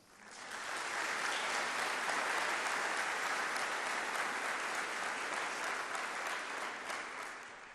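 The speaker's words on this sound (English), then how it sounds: "So a round of applause for the young ones" Applause at a hometown heroes awards event swells up quickly and holds as a dense, steady clapping from a sizable audience for several seconds before easing slightly.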